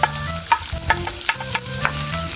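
Onions sizzling and frying in a pan with garlic for a Filipino vegetable sauté, with steady crackle and several sharp stirring scrapes.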